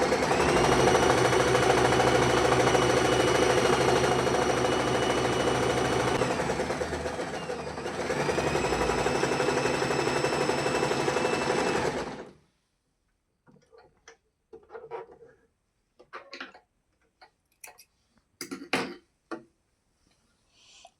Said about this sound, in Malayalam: 4 ഇഞ്ച് മടക്കി തയ്ക്കുക ആദ്യം